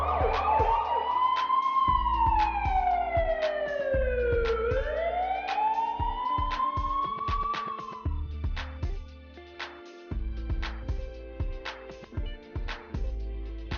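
A fire brigade or ambulance siren on a road wails loudly, sweeping down and back up in pitch, then gives way to a rapid series of sharp clicks.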